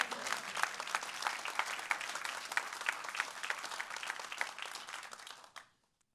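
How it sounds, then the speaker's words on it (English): Audience at a corporate alumni talk breaks into sustained applause, dense steady clapping for about five and a half seconds before it stops abruptly. "I think that deserves a round of applause."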